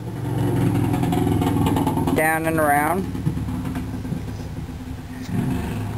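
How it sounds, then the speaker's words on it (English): A poor-sounding motorcycle engine outside rumbles steadily in the background with a brief high revving whine, while a person talks over it. "That motorcycle doesn't sound too good outside."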